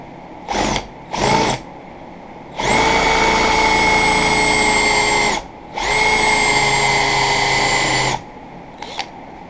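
Power drill boring with a large bit while a chisel sharpening jig is made: two short trigger bursts, then two long steady whining runs of several seconds each, loud and close, with no talking.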